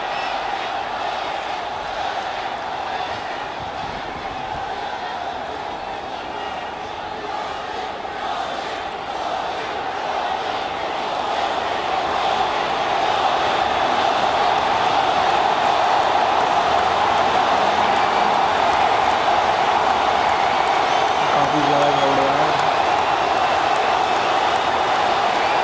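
A huge crowd at the Howdy Modi event in Houston sends up a sustained roar of voices and cheering that grows slightly louder toward the end, with faint tonal sounds briefly rising over it.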